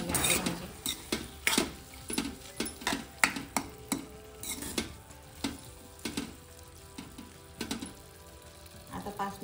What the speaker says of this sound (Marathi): आता 5 मिनिटं फ्राय होते।